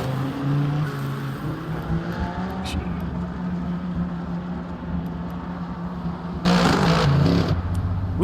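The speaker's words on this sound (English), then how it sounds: "Woo, that Toyota's loud." A loud Toyota race car engine roars steadily in a racing video game, droning at a constant pitch with a brief surge of extra noise near the end, and a voice speaks over it.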